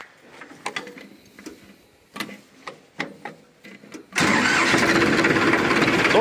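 A Massey Ferguson 1035 tractor's starter clicks and cranks in short bursts for a few seconds, then the diesel engine catches and settles into a loud, steady running clatter close by.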